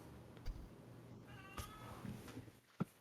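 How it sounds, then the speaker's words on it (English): A pet cat meows faintly with a drawn-out, slightly whiny call in the middle, among soft room noises and a few knocks. "One sec, I gotta get my cat. She's being really angry they don't let her into the room."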